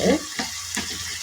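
Tomato and bitter gourd frying in a pan, a short close burst of steady sizzling with soft bubbling and a few light stirring scrapes.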